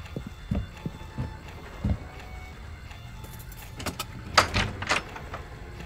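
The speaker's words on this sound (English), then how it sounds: "I can hear footsteps." Footsteps in the video game Black Mirror 3, soft irregular thuds at low level over a quiet ambient background, with a few louder knocks and scrapes later.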